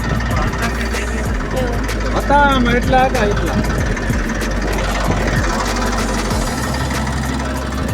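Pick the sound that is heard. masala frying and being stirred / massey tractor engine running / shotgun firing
massey tractor engine running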